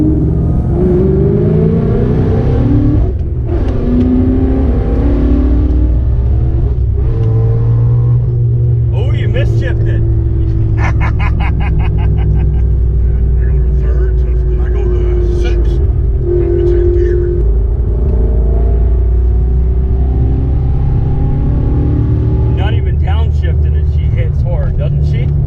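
An 800+ hp Ford Mustang heard from inside while driving, its engine rumbling and revving in deep rising and falling swells. People talk over the engine noise throughout.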